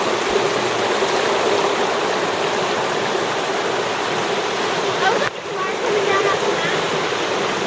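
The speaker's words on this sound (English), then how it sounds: "Check out that wash over there. It's just going at it." A flooded creek wash just after rain, running high with rushing water: a loud, continuous, broadband roar that holds steady throughout, with a brief dip near the end.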